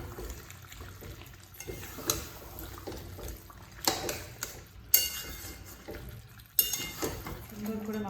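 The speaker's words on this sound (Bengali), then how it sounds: "আস্তে করে নাড়িয়ে দেবো" A spoon scrapes and clinks against a pot of chicken curry, intermittent soft stirring clatters over a low wet simmer, with some background noise.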